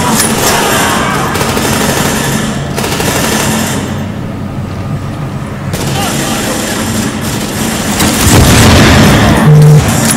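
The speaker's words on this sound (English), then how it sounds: "the gas main just went up in a crossfire" In The Division, at Grand Central Station, a gas main explodes amid a crossfire: heavy booms over continuous rapid gunfire, loud and dense throughout, with a voice talking over the battle.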